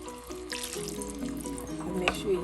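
Pho noodles stirred in a pot of oiled water and lifted up and down, giving soft watery sloshing and dripping that continues steadily and close for a couple of seconds.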